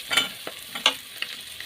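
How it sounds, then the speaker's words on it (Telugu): Onion pieces sizzle in a pan for a dry prawn and brinjal curry while a spoon scrapes and stirs them in a few quick, close strokes. "అలాగే పచ్చిమిర్చి ముక్కలు వేసి బాగా ఫ్రై చేసుకోవాలి."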